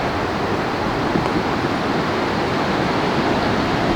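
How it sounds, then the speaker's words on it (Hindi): A river flows nearby in the Himachal hills, a steady, loud rushing hiss that holds evenly throughout with no talking. "शायद आपको नदी की आवाज़ भी आ रही होगी क्योंकि हम इस वक्त नदी के पास हैं"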